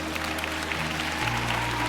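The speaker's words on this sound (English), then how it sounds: "somebody ought to clap on that" An audience claps steadily through a short burst, dense even applause over a low hum that shifts partway through.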